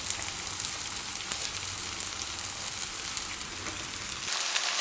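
Soya chunks fry in oil in a pan with a steady, dense hiss and crackle, loud and close, heard alone throughout.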